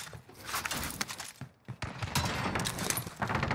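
Rapid bursts of gunfire fill a Warzone match on Rebirth Island, with overlapping shots rattling almost continuously, loud and close, and only a brief lull in the middle.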